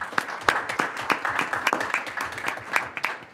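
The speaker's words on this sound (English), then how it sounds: "So a huge applause to Ms. Duran, the teacher of the program" Applause at a school board meeting, a small crowd clapping in an irregular patter that stays steady for a few seconds without any talk.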